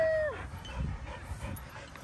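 A dog whimpers with a high falling whine at the start, then gives a few soft yips and snuffling sounds nearby, with the indoor background faintly audible.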